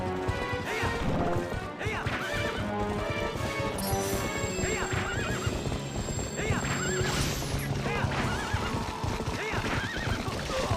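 A horse in The Legend of Zelda: Twilight Princess on GameCube gives repeated loud whinnies over galloping clip-clop hooves and impact crashes, layered with game music.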